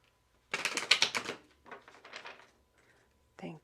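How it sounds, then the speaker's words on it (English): A deck of tarot cards is riffle-shuffled in two close, crisp bursts of rapid flapping clicks, followed by a brief quiet and a short final tap. "One more shuffle."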